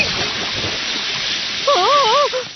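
Hot water splashes in a Doraemon cartoon, a steady rushing, pouring wash with a brief warbling cartoon tone near the end.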